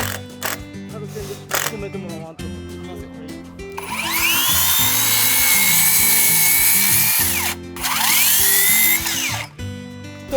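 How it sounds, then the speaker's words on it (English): A power drill drives screws into a wooden fascia board on a house under construction, rising in long whining bursts between quieter handling sounds, with a person talking over parts of it. "the fascia of the entire house will be screwed from the back"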